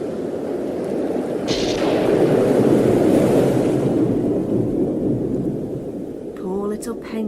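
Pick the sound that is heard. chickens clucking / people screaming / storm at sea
storm at sea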